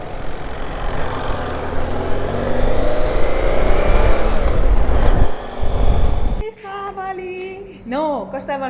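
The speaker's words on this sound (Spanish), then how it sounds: "no nos podemos olvidar de los clásicos atascos y del tráfico de Dakar" Engines rumble and rev in a Dakar street traffic jam, loud and close with rising revs, then cut off abruptly as voices speak over quieter background.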